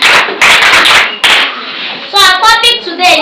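A classroom of children claps in short bursts of loud, close hand claps, with brief gaps and a few voices mixed in between.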